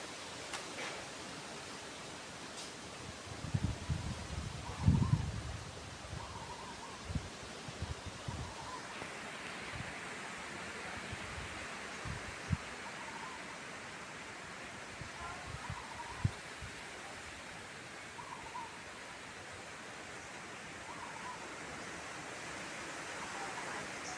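Steady broadband wind noise with tree leaves rustling throughout at a school, a few louder gusts and bumps early on, no voices.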